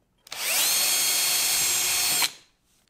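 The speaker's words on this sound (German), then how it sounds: "Dann bohren wir oben ein Löchle rein." A power drill bores a hole during a DIY build of a quick-change dust extraction setup for a plunge saw, with one loud continuous whine lasting about two seconds before spinning down.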